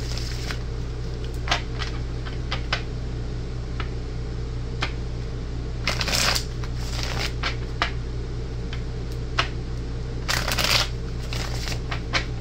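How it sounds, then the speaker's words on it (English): Tarot cards riffle and slide together in a few brief shuffling bursts, with soft taps and clicks in between over a steady low hum. "let me go ahead and shuffle and give a few, break the deck"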